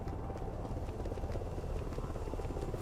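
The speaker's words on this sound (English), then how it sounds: "There we have the helicopter." A helicopter in a military shooter video game drones with a steady low rotor rumble and faint rhythmic chop, continuous and fairly distant.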